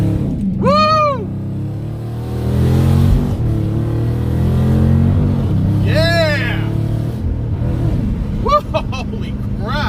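A Hemi car with its tuner cranked to the extreme setting pulls away under hard acceleration, a loud, steady engine drone close by, with rising tire or engine whines and excited voices over it.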